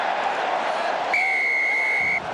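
A referee at a professional rugby match between Toulon and Stade Français blows one long, sharp whistle for a penalty. It cuts clearly through the steady roar of the stadium crowd.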